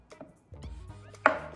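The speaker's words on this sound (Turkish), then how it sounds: "Doğrama işi bitti." A few knife chops on a cutting board while chopping chocolate for cookies, irregular taps, with a louder final chop, close and otherwise quiet.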